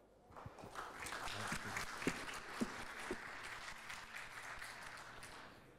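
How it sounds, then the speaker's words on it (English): Audience at a DefCon-style security conference hall clapping to welcome a speaker, a fairly faint, diffuse patter of many hands rising after a quiet start and sustained to the end, with a few sharper individual claps standing out. "Let's give him a round of applause."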